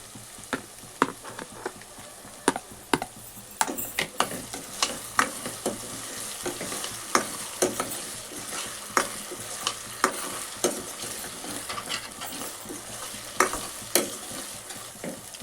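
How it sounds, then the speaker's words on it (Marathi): Tomatoes fry in a pan for a Malvani prawn rice dish, with a low steady sizzle under repeated sharp clicks and scrapes of a spatula stirring, irregular but continuous and close. "यामध्ये आता मी टमॅटो ॲड करते."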